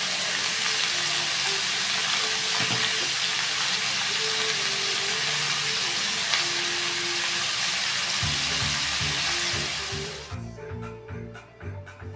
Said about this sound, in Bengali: এখন আমরা এটাকে একটু ভেজে নেব। কড়াইয়ের মধ্যে আমরা এখানে তেল দিয়ে নিয়েছি, এখন সরষের তেল দিয়েছি